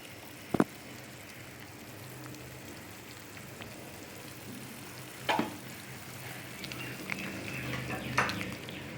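Drumstick leaf soup with turmeric simmers in a pot with a soft, continuous bubbling hiss, broken by a few sharp metallic clanks of a spoon against the vessel.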